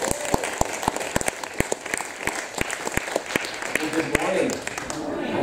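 An audience bursts into sustained applause welcoming a speaker at a family worship service, with dense clapping carrying steadily through the clip and a few sharper claps standing out near the front before it thins slightly at the end.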